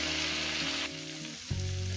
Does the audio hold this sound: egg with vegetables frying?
yes